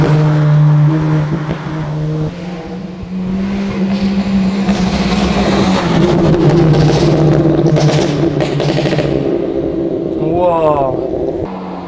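A tuned Volkswagen Golf 5 GTI with a stage 3 engine of over 300 horsepower idles and revs nearby, its engine note rising and falling steadily, with people talking over it.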